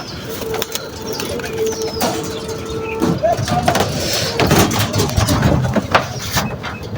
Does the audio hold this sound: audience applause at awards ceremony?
no